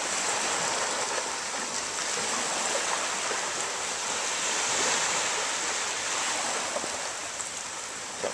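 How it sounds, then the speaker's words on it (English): Ocean waves break on the shore where surfers ride and the tide is coming in, a steady loud broadband wash of surf that continues without pause. "There's waves."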